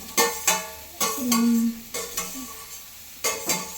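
Okra being stirred and roasted in a hot pan for sambar, giving a string of sharp scraping and tossing strokes with a light sizzle between them, close and alone with no talk.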